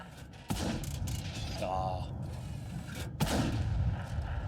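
Tank cannon shots in World of Tanks, a Batchat 25t battle, boom sharply twice over a rumbling battle background, with a voice talking underneath.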